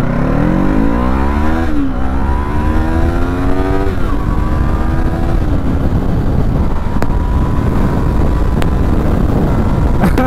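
A 2024 Yamaha MT-03 motorcycle pulls away in first gear, its engine note climbing in several rising sweeps with brief dips between, loud and close, then settling into a steadier rumble with road and wind noise.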